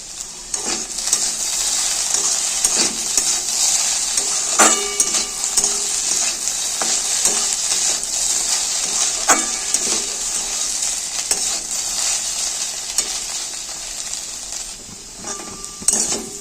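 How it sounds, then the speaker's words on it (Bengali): Onions frying with black cumin seeds in a pan, a steady bright sizzle running throughout, broken by the scrape and clink of a spatula stirring against the metal. "পেঁয়াজ ভাজা হয়ে গেছে"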